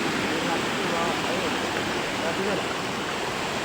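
Twin Falls at Bumbungan Falls, heard from above the falls, gives a dense, continuous roar of rushing water that stays loud and even from start to finish.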